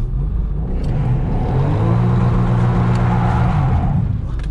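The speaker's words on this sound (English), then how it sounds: "now you know that the car was on the rev limiter, it was going da-da-da-da-da-da" A drift car's engine drones loud and close with a steady buzzing tone, sustained for a few seconds as it holds high revs against the limiter.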